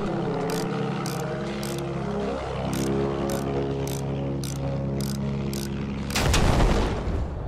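An attack plane in the video game Battlefield 1 drones with a steady propeller engine while sharp bursts of rapid clicks repeat at regular intervals, ending in a heavy blast near the end.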